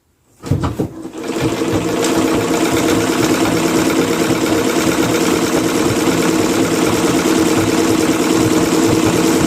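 Pedal-driven treadle sewing machine starting up with a few clunks, then running as a steady, loud mechanical whir and rattle, close and continuous with no talk.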